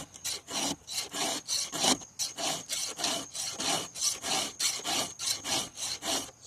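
Repeated back-and-forth rasping of a file sharpening chainsaw chain teeth, about a dozen steady strokes in an even rhythm, close and fairly loud with no talk.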